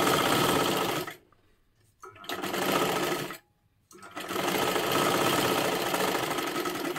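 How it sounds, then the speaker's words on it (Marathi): A sewing machine double-stitches a blouse seam in close, loud running bursts, with two short pauses between stretches of rapid, even stitching. "आता इथे आपल्याला परत एकदा डबल शिलाई देऊन घ्यायची आहे."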